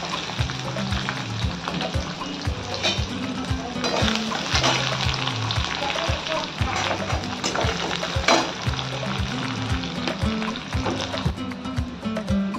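Onions with crushed cardamom, chillies and cumin frying in oil for a traditional Indian chola dal, a steady crackling sizzle throughout with stirring clatters and a voice talking over it.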